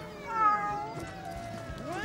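Outdoors among a crowd of cats fed by fishermen, several cats meow in overlapping, drawn-out wavering calls, steady and moderately loud.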